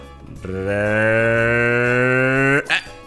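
A cow in a farming video game gives one steady, sustained moo of about two seconds, loud and clear, followed by a short trailing blip.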